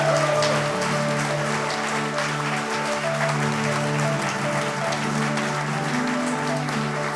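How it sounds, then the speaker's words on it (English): An audience at a church Christmas production applauds in a dense, sustained round of clapping that continues steadily throughout, with a low hum of voices underneath. "can we please just give a massive round of applause to thank everyone who's helped make this happen"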